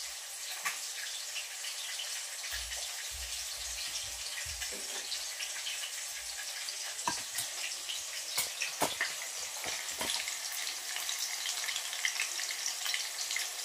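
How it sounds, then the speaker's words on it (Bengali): Small-cut potatoes frying in a pan, a steady loud hiss of hot oil throughout with scattered clicks and spoon scrapes growing busier toward the end, close up. "এগুলোকে ভালো করে ভেজে নেব এখন"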